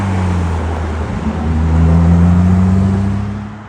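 Porsche Boxster Spider sports car arriving at a prestigious supercar event, its engine a steady loud drone that swells slightly as it draws near, then eases off.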